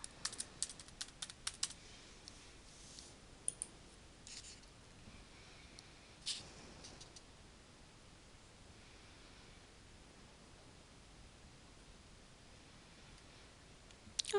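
Username and password typed on a computer keyboard for a school login, sparse faint key clicks in short bursts over a quiet hiss, with long pauses between them.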